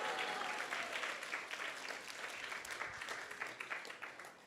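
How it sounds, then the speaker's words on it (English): A devotional gathering applauds the mridanga and kartal players, a soft, distant wash of steady clapping that fades slightly, with faint voices underneath. "just give them a big round of applause"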